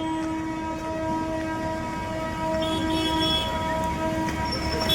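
A train at Gaya railway station in India, its steady rumble and tonal engine hum sustained throughout with brief horn-like tones rising near the middle, heard amid continuous station ambience.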